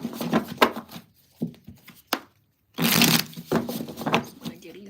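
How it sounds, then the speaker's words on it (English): Playing cards are riffled and shuffled in quick bursts, crisp and close, with short pauses between shuffles and a voice speaking. "Just want to give these cards a really good shuffle."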